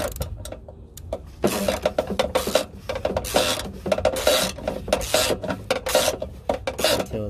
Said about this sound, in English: We're going to put the socket on the oil filter cap.